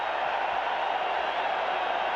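Football stadium crowd at a Chicago Bears versus Green Bay Packers Monday night game chanting for a player, a dense, steady, distant roar of massed voices with no clear break.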